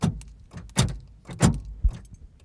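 Old Pontiac Trans-Am being unlocked by remote: several sharp clunks and rattles at close range, a few quick mechanical thuds spaced about half a second apart, with no talking.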